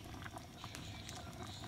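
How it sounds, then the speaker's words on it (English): Black beans and rice boiling in a pot give a steady, close bubbling and popping hiss that holds even throughout, with no talking over it. "it's already boiling and it should be drying up pretty soon"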